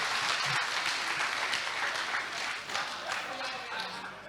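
An audience at a men's conference on the first day of an evangelistic event in Acholiland breaks into sustained clapping, a dense, steady wash of applause that fills the room and fades slightly toward the end.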